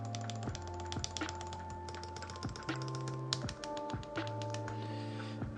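Rapid clacky typing on a KBD75v2 mechanical keyboard with lubed and filmed Gateron Ink switches, steady close keystrokes with occasional deeper space bar thocks and music playing underneath.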